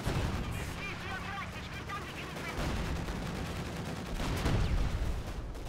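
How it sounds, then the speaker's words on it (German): Artillery barrage in Company of Heroes 2, a dense, continuous rumble of overlapping gunfire and distant blasts that swells toward the end. "Und dann hier nochmal ein Artilleriesperrfeuer rein"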